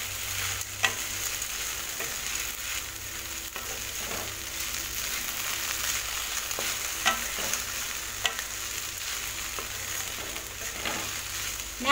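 Chopped okra frying in a pan, a steady soft sizzle with occasional scraping clicks from stirring, moderately quiet and continuous with no talking.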